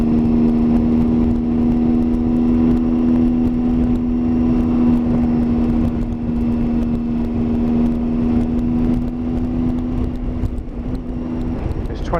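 Motorcycle exhaust note while riding, carried as a steady engine drone through a helmet with the visor slightly cracked, continuous and fairly loud with wind noise throughout, holding an even tone for most of the ride.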